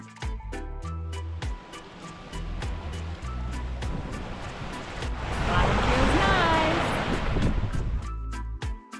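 Ocean surf on Bavaro Beach in the Dominican Republic washes in as a steady broadband roar, swelling louder partway through with some wind buffeting the microphone and faint clicking.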